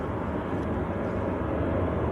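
A Hainan Airlines jet, likely an A330 bound for Beijing, taxis at Manchester Airport, its engines a steady, broad rumbling roar that holds at a constant level throughout without any speech.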